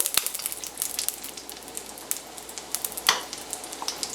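Small lentil fritters fry in hot oil in a pan on medium-high heat, a close, lively sizzle full of sharp pops and spits, with one louder burst midway.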